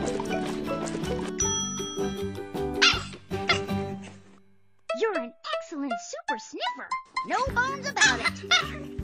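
Puppies bark and yip in quick bursts as they dig for a bone, mixed with cartoon music and children's voices.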